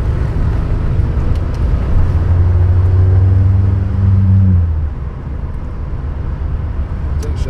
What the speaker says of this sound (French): J'ai rarement vu une Peugeot non turbo compressée marcher comme ça